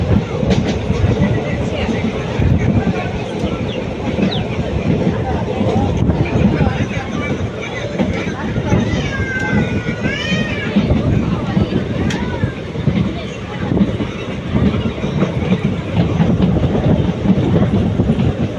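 Passenger train on the Madurai to Tenkasi route arriving near Sankarankovil, with a steady rumbling clatter of wheels on rails filling the whole stretch and someone speaking over it.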